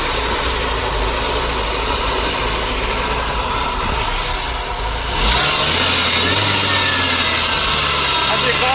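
A 2006 Saab 9-5 flood car's engine runs loudly and roughly near the microphone, rising to a higher revving pitch partway through, with faint voices around it.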